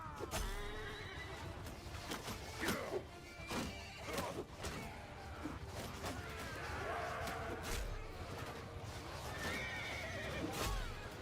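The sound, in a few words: horse neighing in video game Bannerlord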